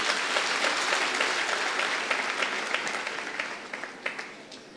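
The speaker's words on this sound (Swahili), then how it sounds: "Tumpigie mzazi makofi." Steady applause from a crowd at a memorial service as mourners clap for a bereaved parent, dense and sustained before thinning slightly toward the end, with no voices over it.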